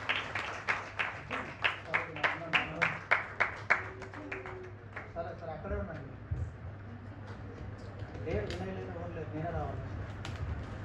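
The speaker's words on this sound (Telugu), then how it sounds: "గట్టిగా చప్పట్లు కొట్టండి, గట్టిగా గట్టిగా ఒకసారి కొట్టండి." Congregation at a New Year church worship service clapping in a loud, even rhythm for several seconds, then the claps give way to someone speaking over faint room noise.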